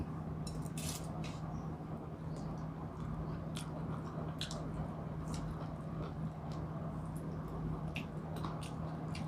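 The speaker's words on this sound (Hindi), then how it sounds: "अब खा करके देखते हैं क्या टेस्ट है" Chewing and squishy biting of rugda mushroom curry, a soft boiled mushroom dish cooked without oil, steady and close over a constant low hum, with faint clinks of dishes or cutlery.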